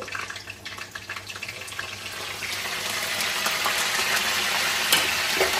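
Curry leaves hit hot oil already holding cumin seeds and green chillies for a chicken curry, and the steady frying hiss swells louder and denser partway through, close and without talk.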